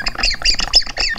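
A Chirpy Top bottle topper chirps as wine is poured, giving a run of loud, close, high bird-like squawks and warbles in quick bursts with no talking.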